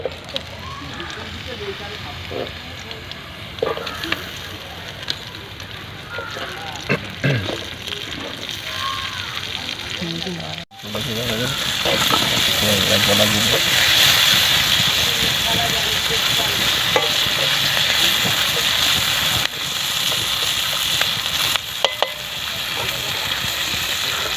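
Sliced onion dropped into hot oil for an eel fish curry, crackling quietly at first, then bursting into a loud, steady sizzle and hiss that runs on, close, with some talk heard over the kitchen sound.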